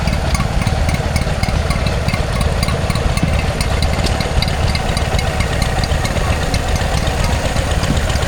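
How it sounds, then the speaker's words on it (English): A Stewart Turner P4 two-stroke stationary engine drives a water cooling pump at an outdoor rural show, running with a steady, busy mechanical chug that holds loud and close for the whole stretch. "There's a Stewart stationary engine, Stewart Turner P4 2-stroke, carrying some sort of water cooling pump."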